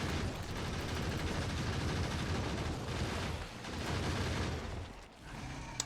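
Dense, continuous rattling gunfire from turrets shooting at swarming biters and worms in the Factorio video game, a steady loud barrage with a short dip near the end.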